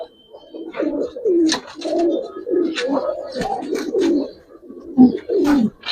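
Giribaz and Pankhi pigeons coo in a steady series of soft, throaty rolling calls, close and clear, with a few brief sharper sounds between the coos.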